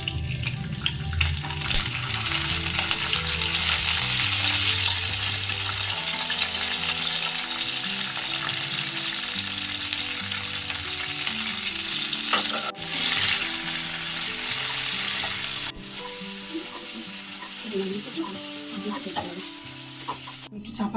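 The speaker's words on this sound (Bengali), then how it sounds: "এবার দিচ্ছি আমি কপিগুলো।" Cauliflower pieces sizzle and crackle in hot oil in a pan for a vegetarian potato-cauliflower dalna, a steady frying hiss with faint stirring and soft background music underneath.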